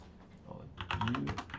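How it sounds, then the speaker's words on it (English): A computer keyboard is typed on in rapid, close clicking bursts after a soft lead-in, with a voice murmuring underneath. "I'm gonna have to make her watch this video of me typing to her."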